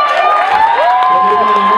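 A church congregation claps and cheers in praise of God, lively crowd noise with whoops and raised voices blending over continuous rhythmic activity.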